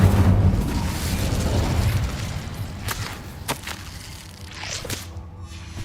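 A fire spell cast in the video game Hogwarts Legacy bursts with a loud whooshing roar, fading over several seconds into crackling and a few sharp pops, with no talking.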